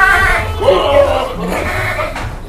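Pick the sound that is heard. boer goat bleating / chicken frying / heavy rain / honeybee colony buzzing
boer goat bleating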